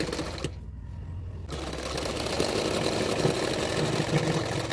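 A sewing machine stitches the sleeve of a double katori blouse, its steady motor hum running continuously after a brief pause near the start.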